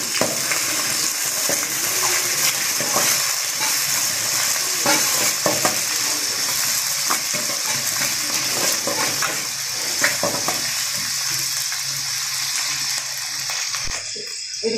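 Curry leaves sizzle in a pan of frying mutton, a steady, loud crackle with spitting pops and stirring scrapes throughout, no voices.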